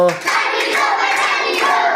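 A group claps along to a children's clapping song, a dense, steady patter of many hands with a few sharper accents, fairly close and continuous for the whole stretch.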